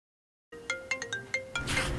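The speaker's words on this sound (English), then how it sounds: "Ah, the phone woke you up." A phone ringtone begins abruptly after a moment of silence, a quick run of short melodic electronic notes played close and moderately loud, ending in a brighter swell.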